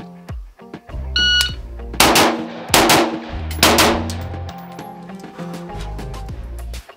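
A Daniel Defense DDM4V7 rifle fired on a range, several loud sharp gunshots spaced about a second apart, each followed by a ringing tail, with brief metallic clinks before the shots.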